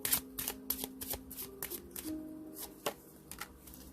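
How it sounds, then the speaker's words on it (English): Love reading tarot cards shuffled and pulled, a close run of crisp riffling slaps and flicks in an uneven rhythm, with a faint tone sounding underneath. "Pull a helper love card."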